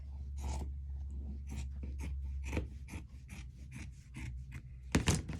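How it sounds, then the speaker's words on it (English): Repeated crisp snips and crunches, a steady series of short cuts through fabric, close by, with a steady low hum underneath. "I'm using my fabric scissors and we're going to cut this excess off."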